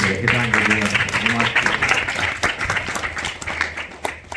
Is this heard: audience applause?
yes